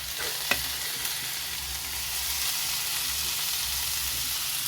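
Tomatoes going into a pot of browned, fully cooked meat, a bright steady sizzle and frying hiss after a brief clatter as they drop in, close and continuous with no talk.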